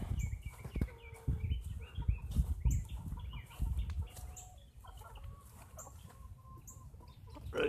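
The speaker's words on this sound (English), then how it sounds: "Rooster." A Kelso rooster clucks repeatedly nearby, short throaty calls in an irregular rhythm with other chicken sounds mixed in.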